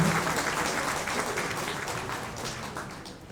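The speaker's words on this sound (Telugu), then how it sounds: "ఇంకొకసారి ప్రతి ఒక్కరు కూడా చప్పట్లతో వారికి ఘనంగా స్వాగతం పలకాలని" Audience applause welcoming chief guests at a revenue employees' association event held at a district collectorate, a steady clapping crowd that starts fairly strong and slowly fades, with no voices over it.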